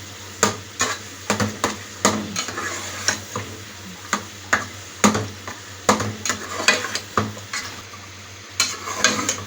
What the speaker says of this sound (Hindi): ये बैंगन मैंने डाल के अच्छी तरह हिला लिया।